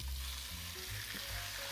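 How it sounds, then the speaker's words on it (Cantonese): Pieces of beef cheek sizzle steadily in a little oil over medium heat in a pan, a close, even, hissing fry with no voices. "我哋開個中火，加些少油，然後將啲牛面夾肉擺晒落去"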